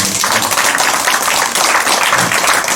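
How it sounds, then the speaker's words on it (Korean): Steady, dense applause from a lecture audience at a health talk on detoxification and recovery, filling the whole stretch at an even, fairly loud level without any break. "서로가 서로에게 박수로 격려하시기 바랍니다."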